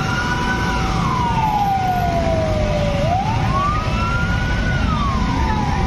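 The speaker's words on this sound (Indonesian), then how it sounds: "mobil pemadam kebakaran" A fire truck siren wails in long rising and falling sweeps outside a football stadium during a Persija versus PSS Sleman match, over steady loud crowd and traffic noise.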